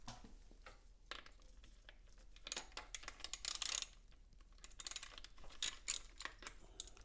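Small metal parts clicking, clinking and rattling as the coolant expansion chamber cover comes off a Yamaha Tenere 700 motorcycle; quiet, close, irregular clatters in bursts with no voices.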